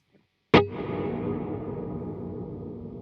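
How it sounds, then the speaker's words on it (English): A single sharp guitar hit from a Kemper Profiler run through natural reverb with maximum room size, 100 ms pre-delay and 8 second decay, blooming into a long, dense wash that slowly fades but keeps ringing to the end. "next on the right side, we have the natural reverb."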